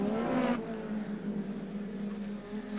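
Touring race cars lap Phillip Island during the 1990 ATCC round, engines roaring loudly and revving as one sweeps past close by, then settling into a steady, droning note as the field carries on.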